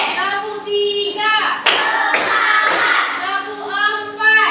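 A primary school class claps hands together in a rhythmic clapping game, with bursts of group clapping between stretches of children chanting aloud.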